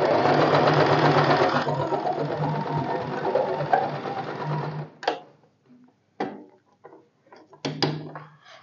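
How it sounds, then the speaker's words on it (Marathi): A sewing machine stitching a katori blouse runs steadily for about five seconds, then stops, leaving scattered clicks and knocks of fabric and machine handling. "पुन्हा फुटर खाली ठेवायचा आणि पुन्हा इथून सुई स्टिच करायची"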